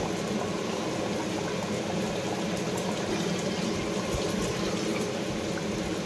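Water boils in a pot of fish curry, a continuous close bubbling and hissing that stays even throughout, with no voices.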